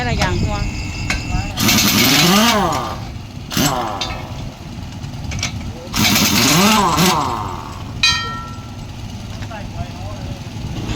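Wheel nuts come off a heavy truck's six-nut outer wheel after a tire blowout. A power tool gives two long whirring, rising-and-falling bursts and a few short hits, all close up over a background engine hum.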